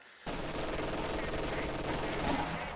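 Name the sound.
MG42 machine gun firing in Company of Heroes 2 video game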